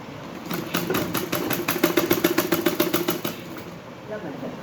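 A sewing machine stitching the lining of a suit, a rapid rhythmic run of needle strokes lasting about three seconds that starts and stops against quiet room tone.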